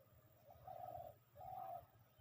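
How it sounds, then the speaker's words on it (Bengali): A dove, likely a spotted or collared dove, coos from a tree along a muddy, quiet village forest path after rain, two soft drawn-out calls at moderate distance over faint background ambience. "আর দেখুন গাছে ঘুঘু পাখি আছে,"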